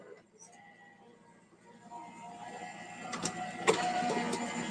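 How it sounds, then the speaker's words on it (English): An electronic craft cutting machine cutting out a swatch shape, a low motorized whir that grows steadily louder with sharp clicks and rattling carriage movements toward the end. "let this machine cut it out"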